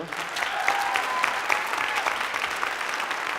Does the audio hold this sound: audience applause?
yes